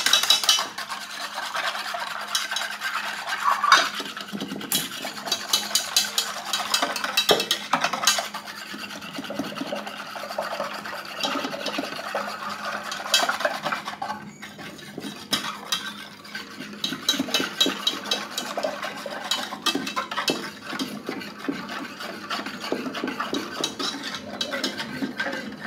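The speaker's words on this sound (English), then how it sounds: "I think I'm actually going to switch and use a whisk." A whisk scraping and clattering rhythmically in a bowl, stirring a sugar mixture for lemon meringue pie, busy metallic rasping that continues steadily with brief pauses, close and fairly loud.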